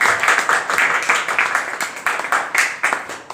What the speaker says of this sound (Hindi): मेरा उनसे निवेदन है कि समस्त मंच के लिए एक बार जोरदार तालियां बजा दें